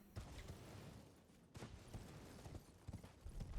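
Horse hooves in the Elden Ring video game, a faint, quick clip-clop of galloping footfalls repeating in an uneven rhythm, with no speech.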